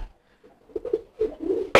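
A male pigeon coos softly in a few low, throaty bursts, close by, ending with a sharp brief noise.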